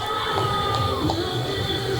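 Stadium crowd at a men's javelin throw event at an Asian throwing championships, a steady broad murmur and scattered cheering that swells briefly, with rhythmic clapping hard to pick out, moderately loud throughout.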